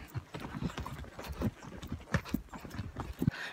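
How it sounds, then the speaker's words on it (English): Horse hooves clip-clopping during a horseback ride at a monarch butterfly sanctuary in Mexico, an irregular series of close, sharp hoof knocks on a bumpy trail. "Riding some horses."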